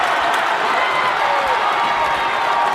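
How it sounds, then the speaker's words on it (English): Home fans roaring in a loud high school gym during a boys basketball game between Alta and Highland, with Highland's student section: a dense, steady crowd roar with cheering that stays loud and close throughout. "Brown getting a cheer from the home fans as they cheer on one of their seniors to the bench"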